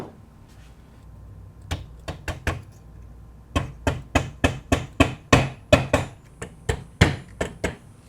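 Sharp hammer knocks, a few spaced strikes first, then a steady rapid series of loud blows close by, with no talking.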